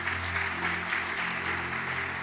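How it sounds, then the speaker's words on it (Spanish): A church congregation gives a strong, steady round of applause to the Lord during a Spanish-language service, a dense continuous wash of clapping with a low hum underneath. "Démosle un aplauso fuerte al Señor."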